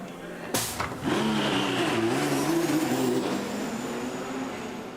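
Audi and Porsche prototype race cars at the 2016 WEC 6 Hours of COTA, a loud close engine roar that swells after a sharp onset and holds a steady wavering pitch as the cars pass, then slowly fades.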